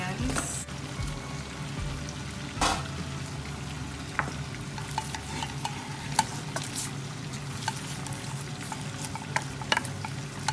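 Onions fry in a pan for escovitch fish with a continuous crackling sizzle, punctuated by scattered sharp pops and the occasional scrape of stirring, close and fairly loud, with no talk.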